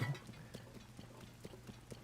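Horse hooves clip-clop in Zelda: Tears of the Kingdom, a steady run of about five soft, evenly spaced steps over a low, continuous game backdrop.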